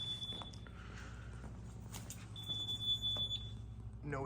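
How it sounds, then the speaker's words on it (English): A small fire alarm for a dust extraction system in a high school mechanical room chirps with a thin, high, steady electronic tone over constant machinery hum, faint and intermittent, with some footsteps and no talk. "This is a little fire alarm for the, this is just for the dust extraction."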